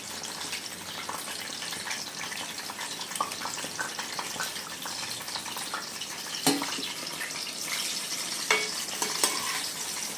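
Eggplant slices fry in oil with a continuous close crackling sizzle dotted with small pops, plus an occasional louder clatter near the end.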